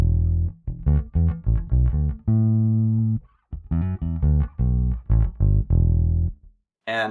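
Bass guitar played through a BOSS GT-1000CORE processor with its compressor switched off, a run of plucked notes and a few sustained ones, loud and close with uneven attack levels and short gaps between phrases.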